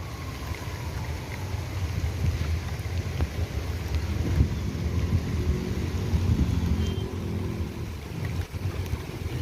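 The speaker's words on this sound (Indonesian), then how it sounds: "hujannya semakin besar" Heavy rain falls over a bus terminal with congested traffic, making a dense, continuous rushing wash mixed with low rumbling vehicle noise at a steady, fairly loud level.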